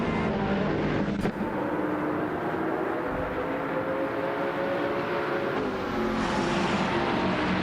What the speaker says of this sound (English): the race just kicked off at the Goodwood track with the track-only hypercars class